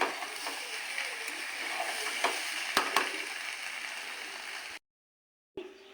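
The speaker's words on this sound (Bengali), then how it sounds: "এবার আমি জল দিয়ে দেবো" Water pours into a pan of spice mixture frying in oil, and a steady loud sizzle and bubbling fill the kitchen before cutting to silence and then resuming briefly.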